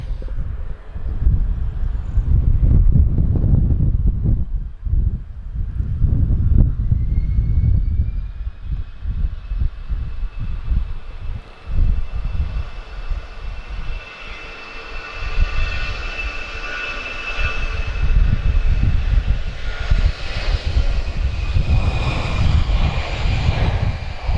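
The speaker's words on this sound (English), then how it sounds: "A330s on the taxi." Airbus A330 airliners taxiing at Lisbon Airport, a loud continuous jet engine rumble with a rising whine that swells toward the end, heard outdoors with no talking.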